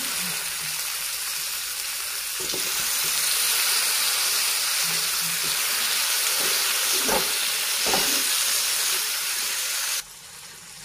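Brinjal and potato pieces dropped into hot oil with black masala and red chilli, frying in a pan with a loud continuous sizzle and hiss, a few stirring knocks, close up, no talk.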